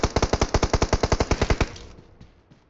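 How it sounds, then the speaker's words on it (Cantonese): A rapid burst of automatic gunfire in a video game, around fifteen evenly spaced shots, then a short echoing tail fading into quiet, with no voices. "小明唔好開多兩下槍，喺嗰度邊，你唔好喐，喺嗰度開槍"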